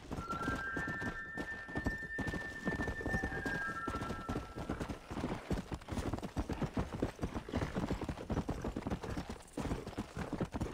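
Horse hooves clip-clop steadily in Red Dead Redemption 1 on PC, with a brief whinny early on and continuous clopping throughout.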